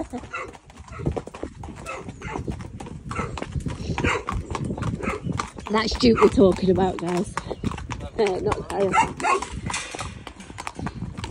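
A horse's hooves clip-clop steadily on a hack ridden out along a road, the regular close footfalls carrying under nearly constant conversation between riders, with a dog barking now and then in the background.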